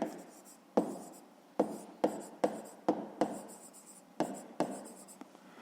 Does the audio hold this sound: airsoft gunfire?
no